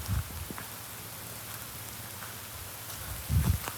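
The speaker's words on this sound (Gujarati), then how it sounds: "ઓહો, વરસાદ તો વધ્યો." Heavy rain pours down in a steady dense hiss of drops striking surfaces, with a couple of brief low thumps near the start and end.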